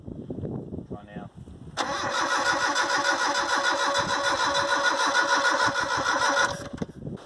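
A 1994 Mitsubishi Triton engine starts: brief voices and a short whir, then the starter grinds loudly and steadily for several seconds, close by, before cutting off with more talk around it.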